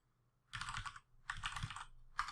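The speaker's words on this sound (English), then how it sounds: "Type in my password." Password being typed on a computer keyboard during software setup: two bursts of rapid keystrokes, close and clear, then a brief third burst, with no talking.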